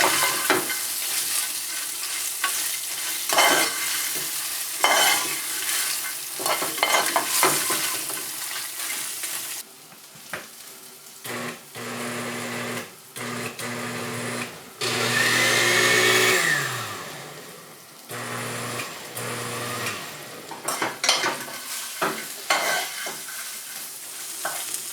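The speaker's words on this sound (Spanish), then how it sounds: "Vamos a agregar la cebolla para que se dore un poquito en la tortilla." Onion frying with tortilla pieces in a pan for chilaquiles, a steady loud sizzle broken by bursts of stirring and scraping, with a surge of hissing partway through and no talking.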